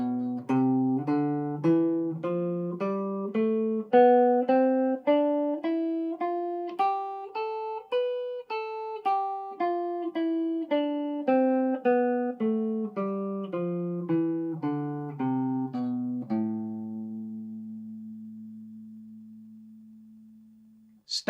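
Natural minor scale on guitar, pattern 3, picked one note at a time up and back down at a steady pace, clean and close, ending on a single sustained low note.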